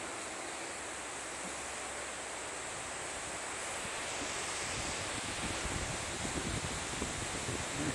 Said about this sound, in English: So we got some really strong winds coming through.